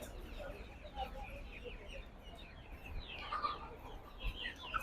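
Chickens at a spring poultry market in Poltava, Ukraine, cluck and chatter softly over a steady low background murmur, with a few brief louder calls near the end.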